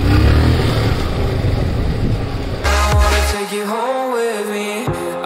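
Motorcycle in good condition being ridden, its engine droning loudly and steadily up close, with a brief tonal whine as it shifts pace partway through.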